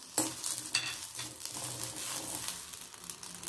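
Green chillies fry in hot oil in a pan for radish chutney, a faint, soft sizzle with a couple of light stirring clicks near the start.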